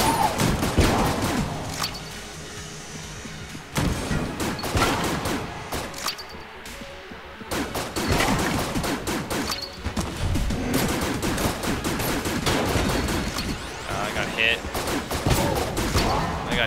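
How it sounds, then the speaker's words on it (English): The seizure gun in Enter the Gungeon fires in dense rapid bursts, a loud near barrage of crackling shots that pauses briefly around the middle and then resumes, with speech now and then under the gunfire. "Back to the seizure gun."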